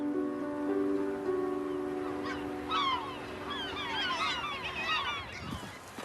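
Geese honk from a bird island, a dense overlapping chorus of nasal calls that builds and thins over a low steady background hum, no talking.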